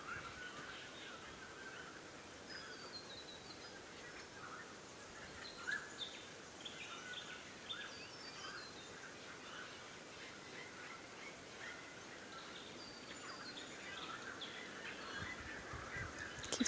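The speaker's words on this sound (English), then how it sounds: "Observe the languages of the birds." Birds sing outdoors in faint, scattered chirps and calls that run continuously in the distance, with no talking.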